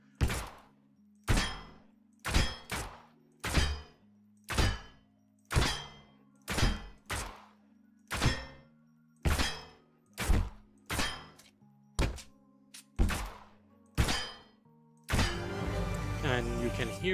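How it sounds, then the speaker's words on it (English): Hit sounds on a target practice device in the game Fortnite, built in UEFN: a regular series of about fourteen sharp, punchy thunks with short ringing tails, spaced a second apart, then a burst of busier game noise at the end. "you were able to hear the hit sounds"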